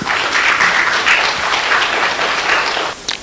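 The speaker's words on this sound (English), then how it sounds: "with a round of applause" An audience at a university lecture gives a round of applause to welcome the institute's acting director. The loud, dense clapping is close and sustained, then thins and tapers off in the final moments.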